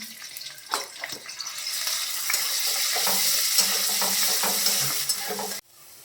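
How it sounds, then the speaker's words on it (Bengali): Chopped garlic, ginger and chili hit hot oil in a wok and sizzle loudly and close, the frying hiss building steadily before cutting off abruptly near the end. "তেলটা গরম করতে দিয়ে দিয়েছি তো এরপরে আমি দিয়ে দেব এই যে এতগুলো রসুন কুচি রসুন কুচি আদা কুচি আর লঙ্কা কুচি"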